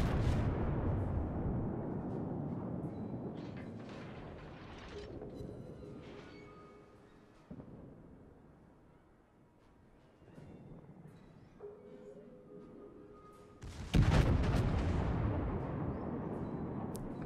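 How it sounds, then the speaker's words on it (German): Naval gunfire from a Großer Kurfürst battleship in World of Warships, with secondary guns banging at a distance. Rumbling booms are scattered through the clip, and a louder blast lands near the end. "jetzt sind auch die Sekundären am Schießen"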